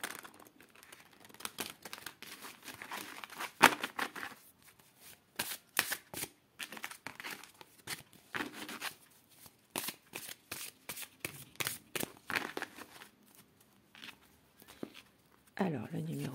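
Tarot cards are shuffled by hand in repeated quick riffling bursts with short pauses between, close and fairly quiet, with brief soft speech at moments.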